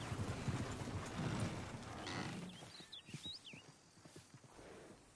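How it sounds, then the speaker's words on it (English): A horse in the Red Dead Redemption 2 game whinnies and snorts over clip-clopping hooves, moderately close, with bird chirps and faint ambient sound near the end. "Is one of you gonna get that fella's horse?"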